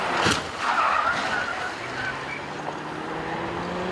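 Cars rush past at high speed on a motorway beside a crash scene, with a loud close whoosh early on that fades into a steady, more distant traffic roar.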